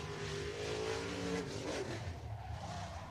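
A race car laps at speed around F8 Showtime Speedway in Pinellas Park, Florida, its engine note droning loud and steady, sliding up in pitch as it passes close by during a timed qualifying lap.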